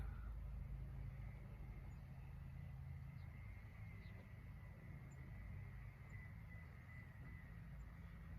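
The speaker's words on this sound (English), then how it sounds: "I hear cars on the freeway." A low, steady hum of cars on a distant freeway fills the background, faint and continuous, with no distinct passes standing out and no voices.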